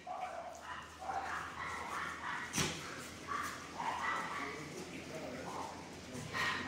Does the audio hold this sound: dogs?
yes